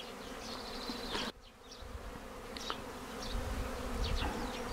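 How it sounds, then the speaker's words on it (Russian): Honey bees work at apiary hives on a warm, sunny morning, making a faint, steady buzzing hum with individual bees whining past the microphone now and then. "Пчелки работают в полную силу."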